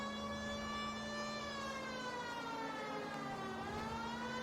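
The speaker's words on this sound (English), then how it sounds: "Do I have a siren? I have a siren!" A continuous wailing police car siren from the video game L.A. Noire, steady and fairly faint, rising and falling in pitch with no voices over it.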